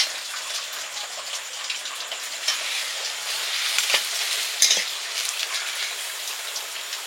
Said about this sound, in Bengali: আর এই যে পাঁপড় ভেজে নিচ্ছি।